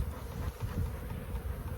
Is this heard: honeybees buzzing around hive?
yes